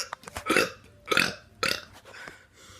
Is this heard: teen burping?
yes